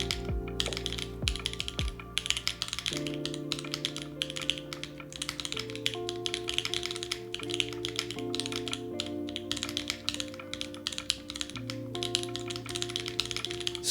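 Steady, full-sounding typing on an Alice-layout mechanical keyboard, with continuous close keystrokes over a faint musical bed and no talking.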